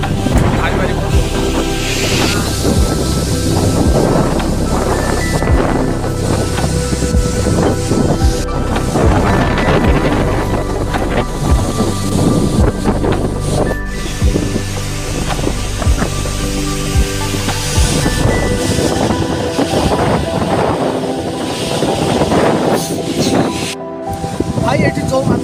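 The Mankad Dian waterfall rushes loudly and constantly, its water roaring up close and mixed with wind buffeting the microphone. Someone talks now and then over the noise.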